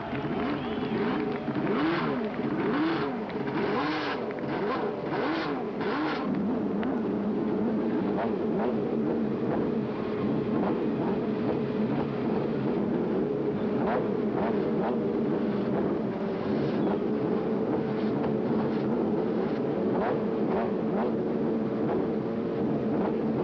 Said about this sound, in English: The engines are fired up, and the best IndyCar drivers in the world are ready to race.